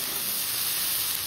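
Food frying in a pan for chow mein gives a steady, close hiss and sizzle with an even texture throughout, with no voices.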